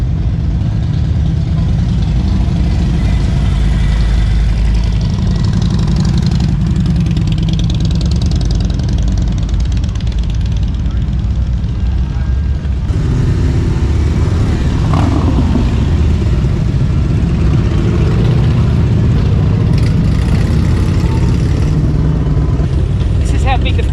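Crowds of motorcycles running at the Sturgis rally in 2023, a steady loud rumble of idling and revving engines filling the scene, with people talking over it.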